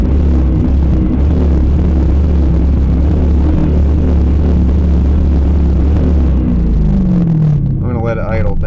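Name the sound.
car engine throttle snapped, revving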